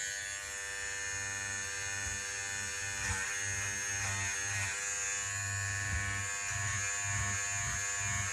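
Handheld stitch eraser buzzing steadily through knockdown embroidery stitching, a constant close electric hum with small fluctuations as the blade catches threads, no talk.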